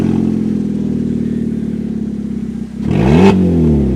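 Car engine with its muffler removed, running steady and loud with a rough, throaty idle, then revving up sharply near the end in a raw, unmuffled blast.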